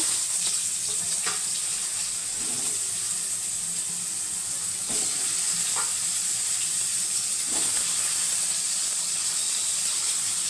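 Potato pieces frying in oil make a continuous, even sizzling hiss close by, with faint scattered pops and light kitchen clatter, without any talk.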